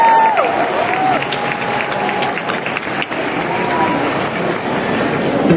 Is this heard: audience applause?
yes